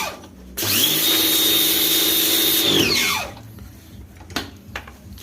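A four-year-old Bosch pressure washer blasts a very dirty gas stove, its motor whining up in pitch, holding a loud steady drone for about two and a half seconds, then spinning down, followed by a few faint knocks.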